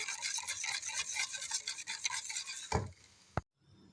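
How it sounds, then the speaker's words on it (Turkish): Pudding thickening in a pot is stirred with a spoon in a fast, continuous, close scraping that ends with a couple of knocks against the pot before going quiet. "katılaşıncaya kadar karıştıracağım"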